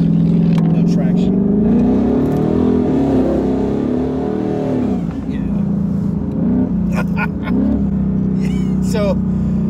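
A twin-turbo 2019 Mustang GT running E85 spins its ET Street R tires, the engine roaring loud and steady with pitch swings and sharp squeals near the end while a voice talks over it.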